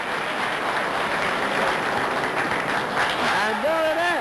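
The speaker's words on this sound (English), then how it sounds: "And listen to this crowd." A large crowd applauds steadily at the 1966 US Open straight pool championship final between Irving Crane and Joe Balsis, a dense continuous wash of clapping with a voice talking over it near the end.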